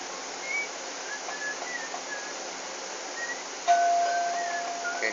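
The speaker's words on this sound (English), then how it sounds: "Okay, kind of delayed reaction on the doorbell." A doorbell rings in The Sims on PS2: one electronic chime about two-thirds of the way through, clear and steady over the faint, busy background of the game.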